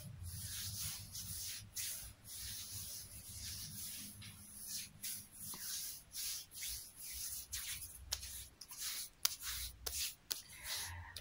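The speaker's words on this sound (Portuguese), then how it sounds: "eu só vou esfregar esse óleo aqui nos seus ombros" Hands rubbing massage oil over a person's shoulders and back, a soft continuous slick rubbing and swishing in close-up with faint scattered clicks, quiet and without speech.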